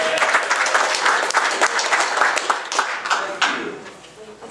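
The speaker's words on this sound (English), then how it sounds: "Can we have a round of applause for Michael?" Audience applause for Michael Fremer at a turntable setup seminar, a dense, steady wash of many hands clapping that carries on for several seconds before tapering slightly at the end.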